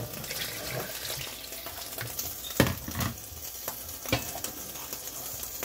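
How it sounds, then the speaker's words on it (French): Kplala sauce cooking in a pot after water is added, a steady hiss and bubbling simmer with a few sharp clinks and stirring knocks of a utensil against the pot. "je vais encore ajouter de l'eau pour faire cuire maintenant la sauce"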